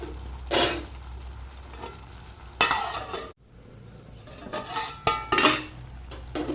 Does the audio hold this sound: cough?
no